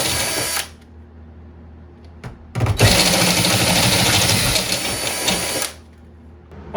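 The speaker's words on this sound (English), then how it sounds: "It's a step drill." A step drill bores a half-inch hole for a faucet while installing a reverse osmosis water filter system, running loudly and steadily for about three seconds after a brief first burst, with a short burst and a pause before it.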